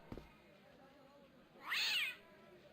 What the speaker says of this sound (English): There's a bell, and there's a kitty!